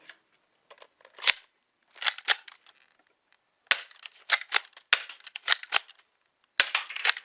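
Dart Zone Pro MK 2 foam dart blasters fire in sharp, clicky snaps, several shots spaced in quick clusters with short pauses between, close and fairly quiet, with faint impacts on targets and no talking.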